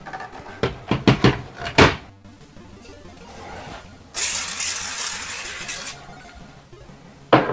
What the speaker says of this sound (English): I'm going to be giving them a little bit of a spray with the compressed air as well.